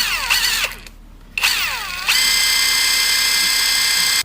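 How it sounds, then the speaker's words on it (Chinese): A new brushless electric impact wrench whirs up and winds down twice in short bursts, then runs steadily at full speed with a loud, high motor whine, close up and without talking. "这是一把无刷的电动扳手"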